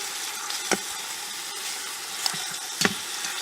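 Short ribs browning in a Power Quick Pot pressure cooker, a steady close sizzle and frying hiss with a few brief clicks of a utensil against the pot.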